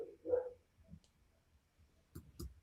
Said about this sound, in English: I don't know if you can hear my dogs barking in the distance.